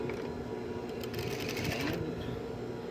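A sewing machine stitching piping onto a sleeve runs as a steady, fairly quiet mechanical whir with a rapid needle clatter that builds briefly in the middle.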